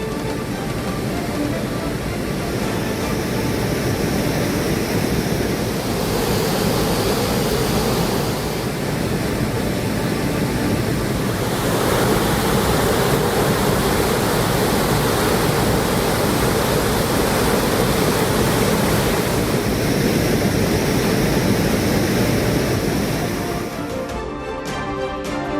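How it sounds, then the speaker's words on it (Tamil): The Moola Vaigai river in Theni district, swollen by continuous rain and flowing bank to bank, rushes in a steady, loud, unbroken roar of floodwater with no voices. "தேனி மாவட்டத்தில் பெய்து வரும் தொடர் மழையால் மூல வைகை ஆற்றில் வெள்ளப்பெருக்கு"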